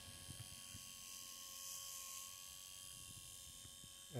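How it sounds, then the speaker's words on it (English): A Rover 25 rear wiper motor runs on a 12-volt bench power supply, giving a steady faint whirring hum with a light mechanical whine as the shaft turns back and forth. "The shaft is rotating, going backwards and forwards."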